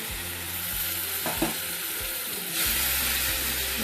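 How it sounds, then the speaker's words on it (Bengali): Tomato and cumin masala fries in a pan with a loud, continuous sizzle that swells a little louder partway through, with faint stirring scrapes underneath, close up and without talk. "মশলাটা কষাতে হবে ভালো করে"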